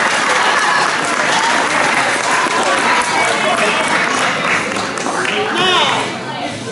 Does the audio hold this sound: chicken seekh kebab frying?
no